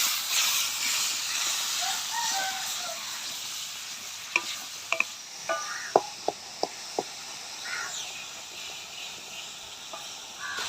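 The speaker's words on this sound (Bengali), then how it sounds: "এবার ভালো করে মশলাটাকে কষিয়ে নেব" Spice paste of ground coriander, turmeric, salt and a splash of water sautéing in a pan, with a steady close sizzle and hiss broken by several sharp spatula scrapes and taps midway.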